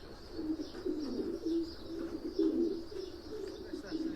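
Low, soft pigeon cooing in repeated rolling phrases, close by and fairly quiet over a faint background hum.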